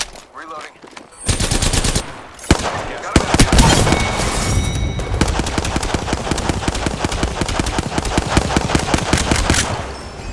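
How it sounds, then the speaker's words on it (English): Rapid automatic gunfire in Apex Legends, with G7 and Hemlock weapons, a loud sustained rattle of shots after a few scattered single cracks, with game voices in the mix. "Shot fired."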